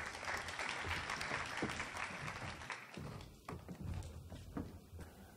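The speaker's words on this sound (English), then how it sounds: "Let's give him a round of applause." An audience claps for a presenter, sustained applause with distinct individual claps audible in the mix, fairly quiet and distant, thinning slightly toward the end.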